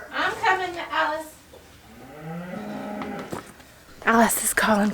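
A cow moos on a farm in one long, low, drawn-out call, loud and near, between stretches of a person talking before and after it.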